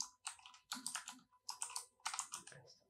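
Quick, crisp clicking of a computer keyboard as a short comment is typed on a WordPress dashboard, coming in close, even bursts of keystrokes with no voice over them.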